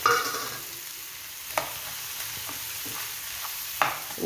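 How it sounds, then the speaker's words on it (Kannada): Cauliflower goes into a pan of frying tomato masala, giving a soft, steady sizzle with a few sharp stirring scrapes and clinks against the pan, fairly quiet and with no talking. "ನೋಡಿ ಈಗ ಹೂಕೋಸ್ ಹಾಕೊಳ್ಳೋಣ"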